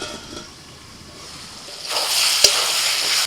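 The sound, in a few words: chicken and chopped tomato sautéing with spices in a pot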